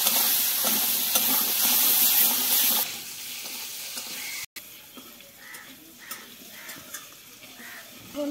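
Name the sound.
potatoes frying in a pan with turmeric and salt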